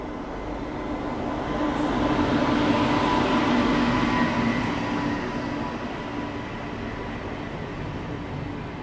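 A train rolling slowly through Maksi station without stopping, heard from on board as a steady low rumble and rail clatter that swells slightly in the middle and stays constant, with no talking.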